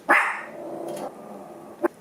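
A dog at a window, reacting to movement outside, gives a sharp bark followed by a low growl, then one short yip near the end, indoors and close.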